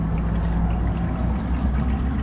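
Engine oil pouring into the fill of a Detroit Series 60 diesel in a Newell coach, a steady close gurgling rush of liquid running continuously without pause or talk.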